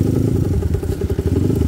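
A motorcycle engine chugs steadily at close range on a trail overgrown with grass, with some rattling and thudding over the constant rumble.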